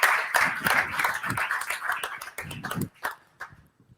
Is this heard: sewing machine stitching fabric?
no